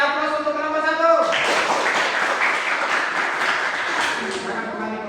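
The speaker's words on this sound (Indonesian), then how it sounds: "Kita beri aplaus untuk kelompok 1." An indoor audience claps for a group after its presentation, a dense, steady wash of applause rising suddenly after a spoken line and holding for several seconds.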